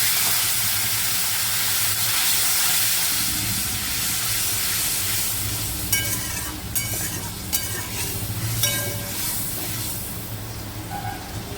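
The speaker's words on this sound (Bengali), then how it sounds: "এবার আমি এর মধ্যে দিয়ে দেবো পরিমাণ মতন জল।" Water poured into hot oil for a fish curry sets off a loud, steady hiss and sizzle, with scraping stirs and a few sharp crackles and spatters toward the end.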